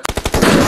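A rapid burst of loud, close gunfire rattles out as a quick sequence of sharp cracks in a sniper shooter video game, then blurs into a dense wash of noise.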